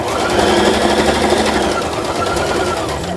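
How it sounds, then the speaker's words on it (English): A sewing machine stitches the long sides of a fabric mailing envelope with a quarter-inch seam, a loud, continuous close-up mechanical whir with a fast rapid chatter and no pauses. "I'm just sewing up the sides, the long sides now"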